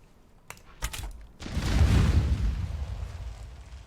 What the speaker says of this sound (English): That was some explosions.